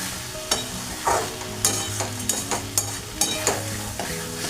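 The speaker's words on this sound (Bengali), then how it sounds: "এটা একটুখানি ভালোভাবে কষিয়ে নিয়ে আমি একটু গরম জল দিয়ে দেবো।" Jackfruit being sautéed with spices in a pan for a Bengali kalia: a steady loud sizzle with repeated scraping stirs and spatula knocks against the pan, close up, with no talking.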